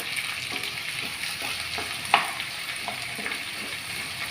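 Onions and tomato frying in a pan with curry leaves for bitter gourd tamarind stew, giving a steady close sizzle with soft scraping stirs and one sharper clink partway through.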